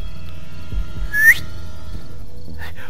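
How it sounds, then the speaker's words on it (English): A single short rising whistle in a Walking Dead zombie video game, heard alone against a low steady background hum, followed by a faint brief sound. "I need to do the whistle"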